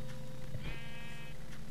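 A sheep in the Minecraft video game gives a short bleat, a single wavering cry heard close over a steady low game background hum.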